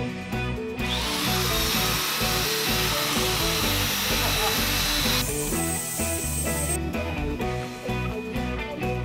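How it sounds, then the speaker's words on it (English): A power sander works over a small wooden cutting board being refinished, a loud continuous whine with steady grinding texture that shifts pitch partway through, with music playing underneath. "Best part about woodworking is sanding."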